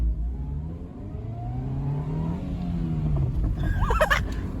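A car revving and accelerating hard in a tuning-style launch, engine note rising steadily over several seconds, close and loud, with a sharp higher whine near the end.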